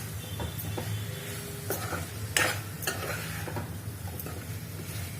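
A sweet and spicy raw mango prawn curry is stirred in a pan, giving a soft sizzle with scraping spoon strokes and one sharper clank midway, all without talking.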